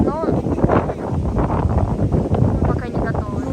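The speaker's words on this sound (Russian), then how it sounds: "Очень-очень ветрено." Strong wind buffets the microphone at a seaside resort hotel in Hurghada, Egypt, a loud rumbling gust noise under a person talking.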